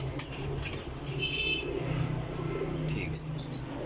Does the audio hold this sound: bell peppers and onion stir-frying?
no